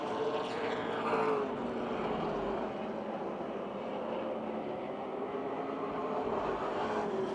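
Race cars circle Motordrome Speedway, a continuous drone of engines at a distance with a gentle rise and fall as the pack passes, steady and unbroken with no voices.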